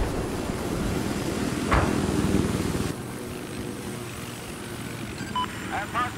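Helicopter flying in the Battlefield 4 video game, a steady rotor and engine drone that shifts partway through, with brief electronic game beeps near the end.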